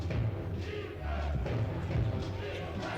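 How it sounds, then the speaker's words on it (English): Basketball crowd in an arena at a Dziki Warszawa versus Valmiera Glass VIA ENBLeague game, a dense steady roar of many voices chanting defense in rhythmic swells, with thuds and a commentator talking over it. "Crowd chanting defense."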